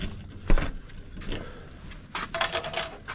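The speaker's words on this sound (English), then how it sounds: "keys down in here." Keys jangle in a jacket pocket, with several brief metallic rattling bursts, a thump near the start and a louder clatter toward the end, close by.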